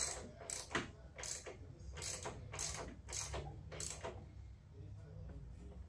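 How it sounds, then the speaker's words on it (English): A ratchet wrench clicks in bursts as it tightens a spark plug on a 2004 Murray 12.5 HP lawn tractor, about eight quick ratcheting strokes close up and fairly quiet, with no talking. "I got to ratchet it all the way in though"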